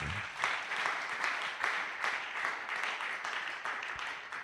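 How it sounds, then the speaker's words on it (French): A church congregation at a Sunday praise and thanksgiving service applauding loudly for Jesus, dense sustained clapping from many hands filling the room throughout. "Acclamons très fort pour Jésus."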